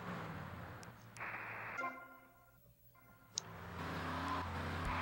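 A car is driven through the streets of Grand Theft Auto: Vice City, its engine revving and then falling away, with a sharp skid or impact near the middle before the motor rises again.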